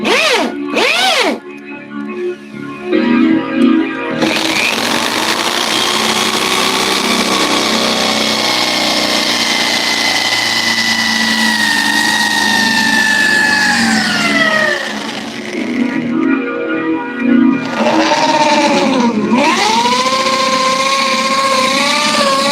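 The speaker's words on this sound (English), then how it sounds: "I have an impact drill" An impact drill whines loudly as it bores into a lock, a sustained high mechanical buzz that bends in pitch as the bit loads up, broken by short pauses and restarts, with no voices.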